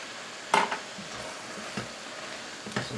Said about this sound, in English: So we just stir this round until each piece has been sealed on the outside.